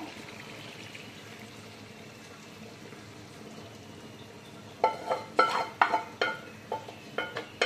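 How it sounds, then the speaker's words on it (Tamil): Sugar syrup is poured into a cooking pot of ghee during Pongal cooking. A quiet, steady kitchen background gives way near the end to a run of sharp, close sloshing and clattering bursts. "அடுத்து நம்ம எடுத்து வச்சிருக்கிற சக்கரை பாவை இதில் ஊற்றிடுவோம்."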